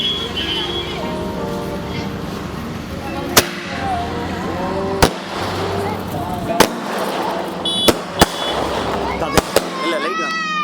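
Sivakasi Supreme brand firecrackers go off one at a time outdoors at night during Diwali, giving about eight sharp, loud bangs at irregular intervals, with crackling and fizzing between them while people talk in the background.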